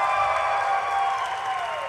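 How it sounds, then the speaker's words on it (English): A steady wash of audience applause and cheering at a Las Vegas convention panel greeting Amy Jo Johnson, loud and sustained with a crowd roar throughout and no voices standing out. "So please give a big round of applause for Amy Jo Johnson."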